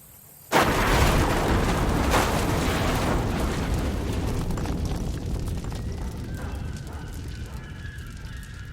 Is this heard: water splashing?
no